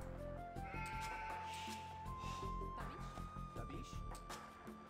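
Sheep bleat from a real-time strategy game, wavering tones heard over game music and continuous talk, steady and moderately loud throughout.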